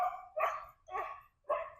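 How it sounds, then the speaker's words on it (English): A dog chasing seagulls barks three times in quick succession, fairly close and clear, with short gaps between the sharp yips and little else around. "the dog's having fun chasing some seagulls"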